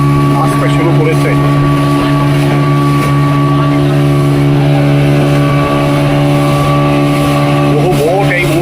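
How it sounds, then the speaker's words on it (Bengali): A speedboat approaches across the sea near Elephant Beach, Havelock, in the Andamans. Its engine drones steadily and loudly throughout, and a voice talks over it. "দ্রুতগামী এই বোটখানা"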